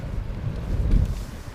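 A low, rumbling gust of outdoor wind buffets the microphone, swelling and fading over a second or two.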